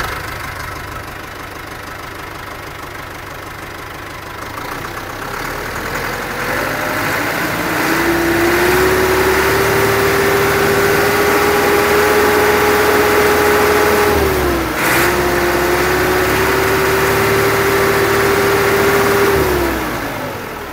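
A new ATS 290 tractor with a reported fault runs loud and close. The steady engine drone rises in pitch partway through, holds a sustained rev with a brief dip, then eases off, with no talking.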